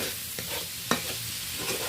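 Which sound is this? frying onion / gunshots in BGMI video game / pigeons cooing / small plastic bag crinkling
frying onion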